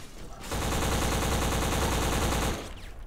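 A sustained burst of rapid AK-47 automatic fire in the shooter game Black, about two seconds of loud, dense, evenly spaced shots starting and stopping abruptly, up close and dominating the mix.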